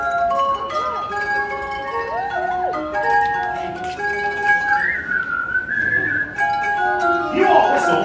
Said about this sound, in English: You all whistle while we work.